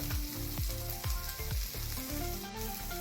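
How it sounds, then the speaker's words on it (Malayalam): Tomato and onion sautéing in a pan, a close, steady sizzle broken by repeated scraping strokes of a stirring spoon at an even rhythm, with no voices. "നല്ലതുപോലെ ഒന്ന് വഴറ്റി മോപ്പിച്ചെടുക്കാം തക്കാളി സവാള നല്ലതുപോലെ വഴണ്ട് വന്നിട്ടുണ്ട്"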